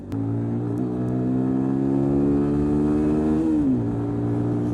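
A 2006 250cc motorcycle revs steadily and close, its engine tone climbing and holding before dropping back near the end, with no talk.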